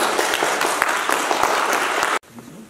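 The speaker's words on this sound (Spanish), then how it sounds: "Démosle un aplauso." Applause from a congregation at a baptism ceremony fills the space, a dense steady clatter of many hands that cuts off abruptly near the end, leaving a quiet room with faint low sounds.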